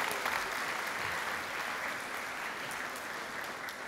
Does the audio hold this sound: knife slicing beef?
no